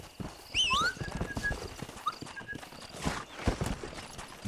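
Horse hooves clip-clop at a steady walking pace in the PlayStation 3 game Red Dead Redemption, with a brief high whinny near the start and a few smaller game sounds layered over the hoofbeats.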